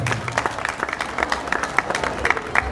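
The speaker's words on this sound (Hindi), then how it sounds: "इनके लिए भी एक बार जोरदार तालियां।" Crowd applause at a college Independence Day programme on 15 August, loud and somewhat uneven, with distinct individual claps standing out in the crowd.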